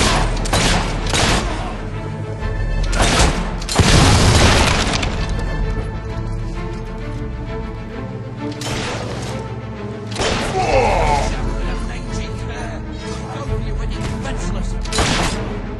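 Gunfire in the fantasy video game Fable 3: loud, repeated bursts of shots in uneven volleys, with cracks and booms over a busy battle background and occasional voices.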